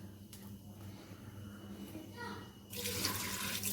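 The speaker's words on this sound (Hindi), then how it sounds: "और इसमें थोड़ा सा पानी डाल के" Water pours steadily into a pressure cooker holding onion, tomatoes, garlic and ginger for aloo chicken, growing louder and splashier toward the end, with faint background noise underneath.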